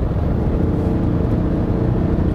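A 2020 Kia Mohave The Master 3.0 V6 four-wheel-drive SUV drones steadily from inside the cabin, its active engine sound enhancement adding a loud, broad, low rumble with no break.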